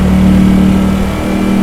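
Ducati Streetfighter V4S motorcycle engine running steadily with a strong low hum, a sustained near throttle drone that dips slightly before picking back up, with no talk.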